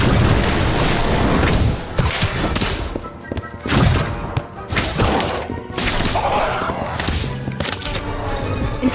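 Incendio fire spell cast in a Harry Potter video game, a series of loud bursts and booming impacts among overlapping combat effects, with a few short dips between hits.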